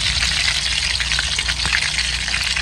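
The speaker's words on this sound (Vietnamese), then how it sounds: "Cái ốc chiên lên thì nó thơm đó cô" Snails fry in a pan for bún riêu ốc soup, giving a loud, steady, crackling sizzle that runs without a break and with no voices.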